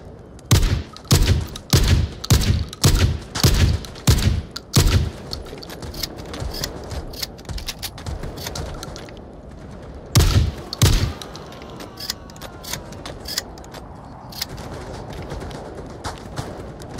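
Machine-gun bursts in the VR shooter Onward VR ring out in a rapid string of loud volleys over the first five seconds, then fall quiet before another short burst near the ten-second mark, with no voices.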